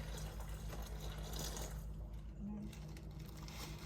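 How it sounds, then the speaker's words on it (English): Water is poured into a bag of coffee beans to make iced coffee, giving a steady, close gushing and sloshing that continues for several seconds with a slight drop in level partway through. "I poured 7 cups of water into the bag"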